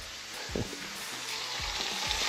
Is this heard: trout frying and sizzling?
yes